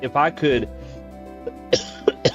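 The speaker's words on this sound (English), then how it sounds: "stop coughing, give me a second." A man with a lingering cough, while commenting on Final Fantasy IX, coughs in a quick series of sharp bursts right after some speech, close to the microphone.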